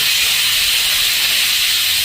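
A pressure cooker holding dal with rice set inside sends out a loud, continuous steam hiss that stays steady and close throughout, with no talking.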